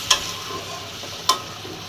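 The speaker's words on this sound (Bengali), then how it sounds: "ছানাটা দিয়ে সুন্দর করে নেড়ে সমস্ত মশলার সাথে ভালো করে মিশিয়ে দিতে হবে" Fried chhana is stirred into a simmering spice masala with milk in a pan, two sharp spatula clinks standing out over a faint, steady bubbling sizzle.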